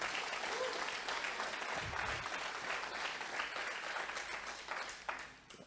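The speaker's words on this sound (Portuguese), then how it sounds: "Agora aplaude Ele de verdade," Congregation in a church applauding together, a dense sustained wash of clapping that holds steady for several seconds before thinning out at the end.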